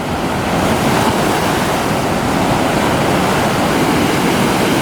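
Powerful sea waves surge and crash onto the shore at high tide on Siargao Island, a loud, continuous roar of churning surf with wind buffeting the microphone, no voices.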